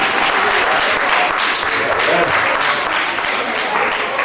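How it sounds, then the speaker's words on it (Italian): An audience at a fashion show event in Legnago applauds continuously, a thick, even wash of clapping filling the space at steady loudness with some voices mixed in. "Grazie Roberto, c'è un applauso"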